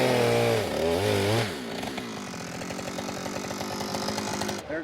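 A chainsaw felling a tree revs loudly at first, then settles into a steady, rattling buzz as it cuts, with a sudden change in tone just before it stops.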